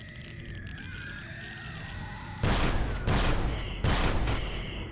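Turret gunfire from Empyrion Galactic Survival erupts in a depot after a quieter stretch, coming as loud sustained bursts of rapid shots over a humming background.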